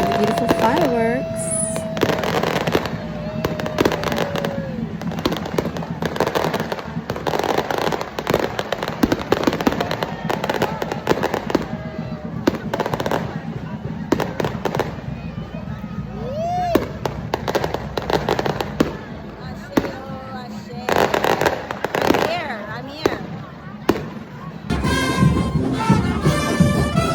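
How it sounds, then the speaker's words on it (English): Fireworks exploding during Carnaval in Rio Vermelho, a dense, continuous barrage of loud bangs and crackles lasting throughout, with crowd noise and voices mixed underneath. "here are the beautiful fireworks"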